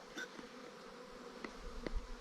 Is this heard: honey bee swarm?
yes